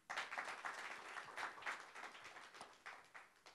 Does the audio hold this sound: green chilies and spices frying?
no